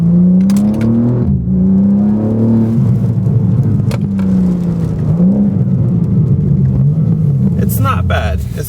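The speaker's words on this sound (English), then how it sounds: "This is the factory exhaust, catted down pipes, and resonator delete." A BMW G80 M3 CS with factory exhaust, catted downpipes and resonator delete, driven gently in the rain, gives a close, loud, steady engine drone that swells and dips with light throttle.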